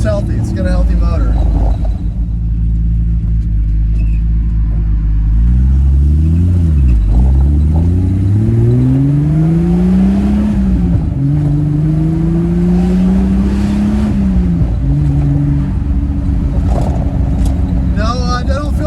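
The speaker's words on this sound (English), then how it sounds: "Consistent exhaust note. It's not popping and banging, just one consistent note." Triumph TR6 with a healthy engine, heard from inside while driving: a loud, steady exhaust drone whose pitch climbs and falls smoothly through gear changes, holding one even note with no popping or banging.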